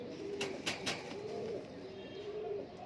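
Three weaned pigeon squabs give soft, low repeated coos, with a few louder sharp bursts early on, heard nearby over a quiet background.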